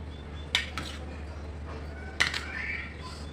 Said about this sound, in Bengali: এই ডিমের সাথে এই ঢেঁড়সগুলোকে একদম সুন্দর করে এইভাবে নেড়ে চেড়ে মিশিয়ে নিচ্ছি